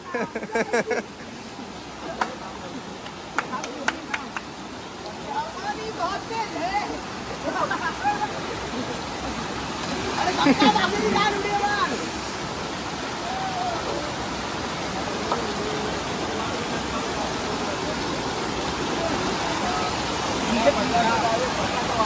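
A tall waterfall in Devgad sends out a continuous broadband roar of rushing water throughout, with people talking over it and a few sharp knocks near the start.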